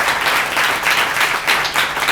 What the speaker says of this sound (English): Can we give a huge round of applause for all the organizers tonight?